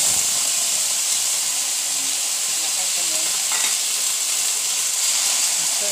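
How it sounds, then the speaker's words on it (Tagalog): Sliced bitter gourd sizzles loudly in very hot oil in a frying pan, a steady bright hiss with faint stirring scrapes throughout. "Kaya ganun, malakas ang tunog ng mantika."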